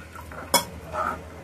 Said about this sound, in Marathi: आणि त्याला छान असं हलवून घेऊया